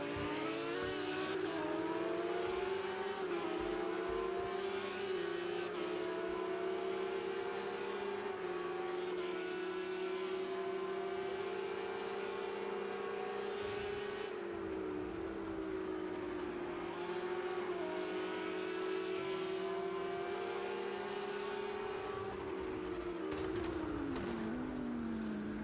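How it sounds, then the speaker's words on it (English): Porsche race car engine in Project CARS 2 racing at Snetterton, a loud sustained high-revving drone with steady pitch, brief dips and rises through gear changes, continuous and close throughout. "Let's switch to Ben and take a ride along in this Porsche"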